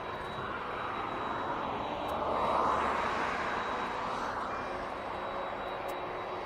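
A DHL/Polar cargo aircraft at East Midlands Airport gives a broad, steady jet rumble that swells slightly in the middle and eases off, heard from a distance with no speech.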